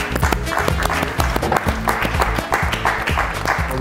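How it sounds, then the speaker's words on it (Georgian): Audience applause at a televised comedy game show as a contestant is welcomed, a dense continuous clatter of hands layered over loud rhythmic background music for the whole stretch. "აპლოდისმენტები"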